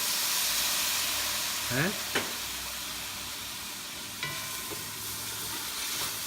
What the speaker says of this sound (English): Now we add a little bit of fish sauce.